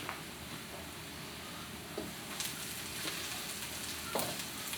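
Vegetables for shrimp fried rice frying in a pan, a steady soft sizzle with a few brief louder crackles and stirring sounds, no voices.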